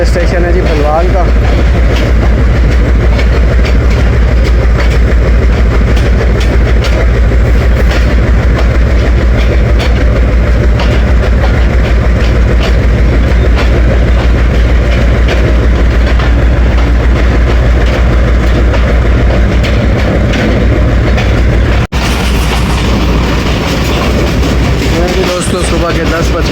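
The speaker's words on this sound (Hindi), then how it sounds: "डिपार्ट कर रही है हमारी 2 डाउन शटल ट्रेन।" 2 Down shuttle train running on the Lala Musa to Sargodha line in Pakistan, with a steady loud rumble and a rhythmic clickety-clack of wheels throughout, the tone shifting briefly near the end, with some voices faintly present.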